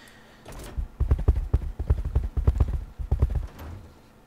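Heavy, rhythmic thudding footsteps of dwarves marching in the video game Might and Magic Heroes 7, a quick run of loud clopping stomps with a short pause before a final few.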